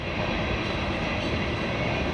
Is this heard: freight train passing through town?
yes